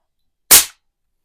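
A single sharp crack from a suppressed Barra 250z .25 caliber air rifle, brief and loud against silence.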